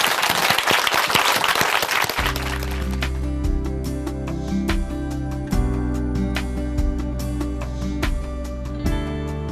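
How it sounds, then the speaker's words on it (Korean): Loud applause from a church audience welcoming a speaker to the stage, dense clapping for about two seconds before music swells in underneath and carries on steadily. "큰 박수로 모시겠습니다."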